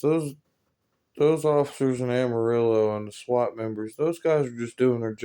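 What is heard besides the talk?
No distinct noise like a dog, phone or traffic.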